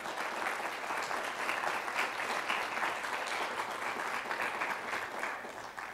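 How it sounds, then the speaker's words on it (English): Lecture audience clapping steadily in a hall after an evening talk, a dense, sustained round of applause filling the whole stretch at an even level, no voices standing out. "Let's give one more round of applause for Robin for coming out tonight."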